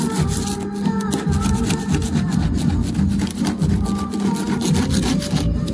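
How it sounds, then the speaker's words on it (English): Steady, close scraping and rubbing as old silicone sealant is dug out of a Bayliner 1802 boat, a continuous rasping texture with no pauses and no speech. "we're getting all the silicone out"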